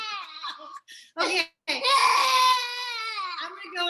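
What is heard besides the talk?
child crying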